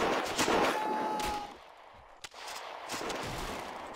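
Artillery piece firing in the World War I game Battle of Empires 1914-1918: noisy battlefield bursts and gunfire, a brief sharp crack midway, then further rumbling shots continuing.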